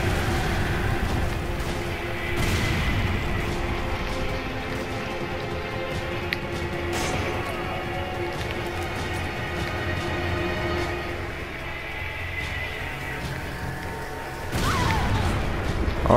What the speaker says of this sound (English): The explosion, man.